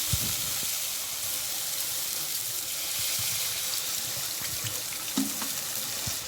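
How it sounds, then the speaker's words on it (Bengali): Water goes into a pan of spice paste that has been fried in oil for pabda fish curry. A continuous soft hiss and sizzle carries on with a few faint clinks near the end. "এবার এর মধ্যে আমরা জল দিয়ে দেবো"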